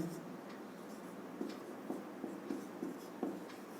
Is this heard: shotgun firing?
no